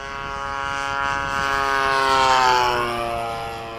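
A Gee Bee model airplane with a propeller flies past at an air show at Bayside, its steady engine drone with strong harmonics swelling louder as it nears, then easing slightly away, with no voices.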